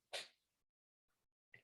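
One sharp, loud sneeze from someone with seasonal allergies, close and alone, followed by a faint breath and a brief murmur.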